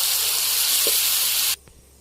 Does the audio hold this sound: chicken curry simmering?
yes